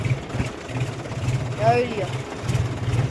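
A John Deere tractor, heavily worked while ploughing a farm field, idles with a low steady engine thrum, while someone talks over it nearby.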